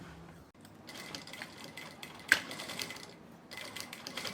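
A sewing machine stitches the lining of a handmade bag: close, rapid mechanical chattering in bursts, with a short stop partway through before the stitching starts again.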